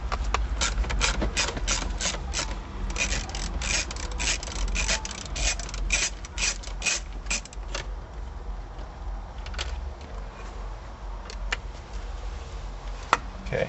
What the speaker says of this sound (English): If you can't get into it with a straight socket and ratchet like this